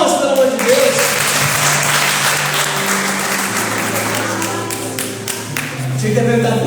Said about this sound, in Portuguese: Palmas, pelo amor de Deus.